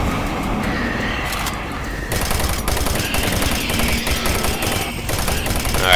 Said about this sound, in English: I'll go chain gun because I've got some ammo for that